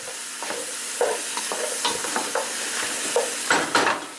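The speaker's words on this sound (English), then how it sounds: "stir it around a bit to pick up some of the taste from the onions and the garlic" Meat stirred in a hot pan with onions and garlic for feijoada, a steady close sizzle broken by repeated scraping strokes of the spoon.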